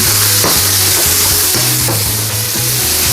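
Pork and vegetables stir-fry in a hot pan with loud, continuous sizzling, broken by regular scraping stirs about every half second, close up and with no voices.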